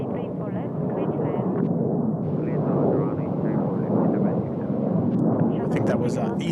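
An Ethiopian Airlines airliner landing at Seoul Incheon Airport gives a sustained, rumbling jet roar that swells and holds for several seconds, while someone speaks over it.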